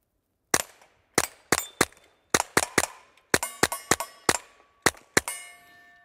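Taurus TX22 Compact .22LR pistol firing at a target 100 yards away, about a dozen sharp, loud shots spaced irregularly, some in quick pairs, each with a brief ringing decay.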